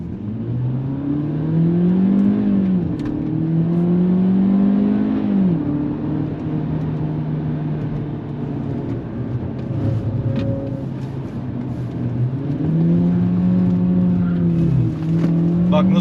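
Seat Leon FR with a stock, unmodified engine revs hard while driving, its loud rising and falling drone holding steady through the run, with passengers heard talking and laughing inside the cabin.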